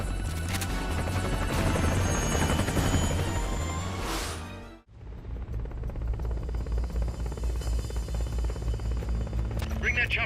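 An Mi-24 helicopter in Metal Gear Solid: Peace Walker, a loud, continuous rotor roar with dense mechanical clatter that cuts out abruptly midway, then returns at a steady level.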